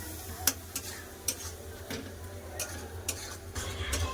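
A spoon scrapes and stirs spice masala of chili powder, cumin powder and a splash of water frying in oil, with irregular sharp strokes over a soft, constant sizzle and no voices.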